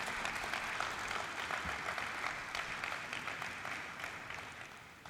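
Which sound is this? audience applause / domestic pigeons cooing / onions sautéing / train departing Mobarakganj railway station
audience applause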